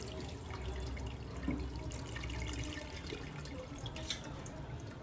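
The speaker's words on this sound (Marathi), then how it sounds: "थंड पाणी टाकते जेणेकरून नूडल्सचं जे कुकिंग प्रोसिजर आहे ते थांबणार" Cold water streams from a tap over freshly cooked Hakka noodles in a home kitchen, a steady rushing splash that holds for several seconds without anyone speaking.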